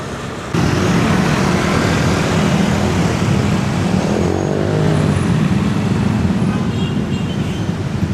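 Rush-hour road traffic in Jakarta, heard by a cyclist, is a steady, loud roar of engines and tyres with a passing vehicle rising and fading in the middle.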